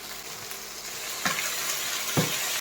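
Vegetables for aviyal sauté in a pan with a continuous close sizzling hiss, broken by two soft stirring scrapes.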